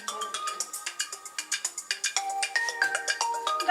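A melodic phone ringtone plays a quick, repeating run of bright electronic notes, clear and fairly close.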